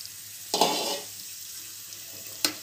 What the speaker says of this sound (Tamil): நம்ம இப்போ இந்த ஸ்டேஜில் வந்து நம்ம புளி தண்ணி கொஞ்சம் ஊற்றிடலாம்